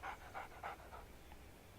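A dog pants in the video game Alan Wake, four quick rhythmic breaths in the first second that then fade into faint background hiss, fairly close and quiet.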